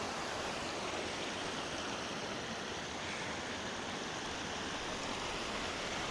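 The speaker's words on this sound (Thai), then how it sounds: "อันนี้คือบรรยากาศตาดสูงเด้อพี่น้อง" Waterfall at Tat Sung near Ban Sanon in Lao Ngam district, Saravan province, Laos, a steady, loud broadband rush of falling water that runs unbroken throughout with no voices.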